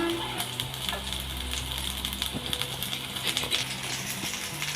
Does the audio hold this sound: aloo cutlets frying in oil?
yes